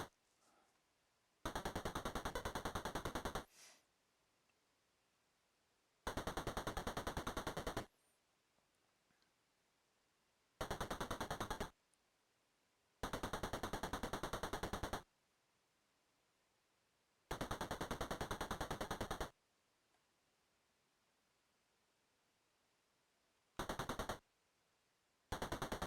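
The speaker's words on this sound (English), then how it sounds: "That's a decent gun sound, I guess." Gunfire sound effect from an Amstrad video game: six loud, harsh bursts of rapid-fire noise, each lasting one to two seconds, separated by near silence, with a final short burst.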